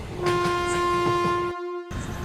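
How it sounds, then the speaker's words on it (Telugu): A train's horn blares as one loud, sustained, steady tone, close by. It breaks off abruptly near the end, followed by a short stretch of rumbling rail noise. "ఫ్యూయల్తో నడిచే ట్రైన్"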